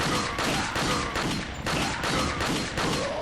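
Dense gunfire in Resident Evil 4, a rapid run of sharp cracking shots and bursts, loud and close throughout with no speech.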